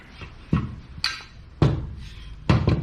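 Hammer striking a part during restoration of a Honda CBR250RR MC22 motorcycle, four or five sharp close metallic blows spaced unevenly, some with a slight ringing clink, no talking.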